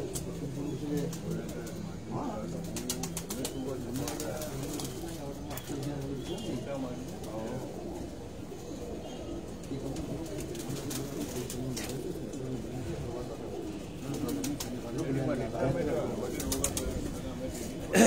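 Lyari pigeons in Karachi coo softly and continuously in the background, with occasional wing flutters, while people talk nearby throughout.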